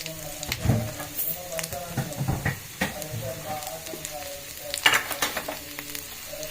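Cumin seeds crackle and sizzle in hot oil in a pan while chutney is made, a steady close frying hiss with small pops and a louder burst near the end; a voice talks faintly beneath.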